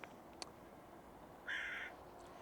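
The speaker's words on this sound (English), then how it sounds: "Crows, for example, early in the morning, they are literally screaming their lungs out" A single crow's caw rings out clearly for about half a second midway through, fairly near against a soft ambient outdoor hush, with a faint click or two earlier and no talking.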